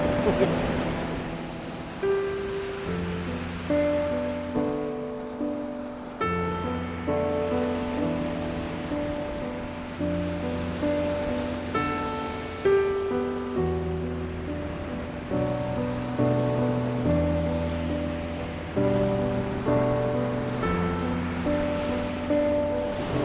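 Ocean waves surge and wash onto a beach, a broad rushing roar that swells and recedes, overlaid by sustained musical tones that run through the whole stretch.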